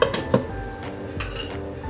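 A lid clinks down onto a metal pot of simmering beef nilaga, a couple of sharp metallic clanks with light rattles, close and fairly loud.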